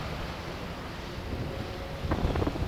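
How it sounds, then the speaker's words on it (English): Strong wind buffets the microphone at a coastal revetment site beside a fishing village in Port Royal, a steady low roar that swells louder near the end, with no voices. "It's very windy, so you may hear the wind noise"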